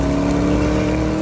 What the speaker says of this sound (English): I'm currently driving on snow and ice in a car that has 641 horsepower rampaging around underneath its bonnet